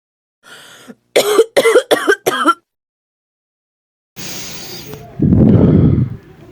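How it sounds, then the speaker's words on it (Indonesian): A mother coughs and clears her throat in a short burst of rough hacks, followed by a longer strained, breathy stretch, loud and close. "tiba-tiba ibunya batuk dan sesak napas"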